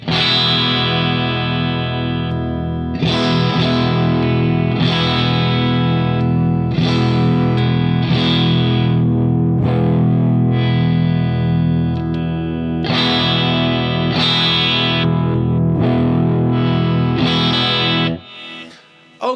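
Eko Stratocaster-style electric guitar played through a Marshall Plexi amp with overdrive and delay in the loop, giving loud, sustained chords and riffs in several phrases, slightly dirty and gritty, played alone without talk.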